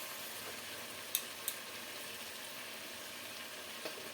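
River fish frying in a pan with turmeric and salt gives a faint, steady sizzle with a few small pops and clicks over a soft hiss.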